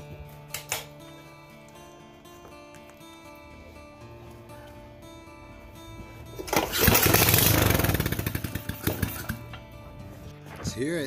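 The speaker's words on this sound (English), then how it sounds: "try to give it one more pull and see if it starts for you guys" Kawasaki FA210D 5 HP small engine on a trike project, pull-started: scattered clicks and handling noises, then a sharp cord pull bursts into a loud, brief engine run with rapid sputtering pulses that fade away.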